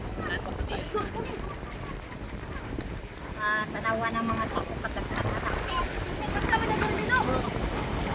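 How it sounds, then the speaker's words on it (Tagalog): A strong northeast monsoon wind gusts over the sea at the shore, with waves breaking. The roaring, buffeting wind hits the microphone continuously, and voices talk now and then beneath it. "malakas ang hangin"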